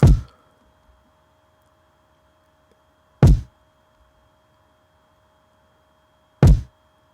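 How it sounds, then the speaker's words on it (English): Solo kick drum: three loud, deep, punchy thumps spaced about three seconds apart, each decaying quickly into silence. "I like the way the kick sounds in and of itself."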